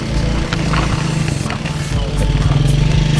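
Engine drone of a motorcycle, continuous and fairly loud with a steady low rumble, on a steep, deep river loop road climb.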